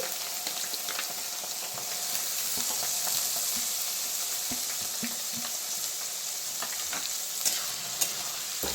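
Onions frying in a pan for chicken kosha, a constant sizzle with soft scraping and stirring clicks throughout, a couple of sharper knocks near the end.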